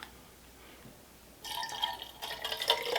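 A drink being poured at a table during a meal, a quiet room tone followed by a bright splashing trickle of liquid into a cup that starts abruptly and continues steadily.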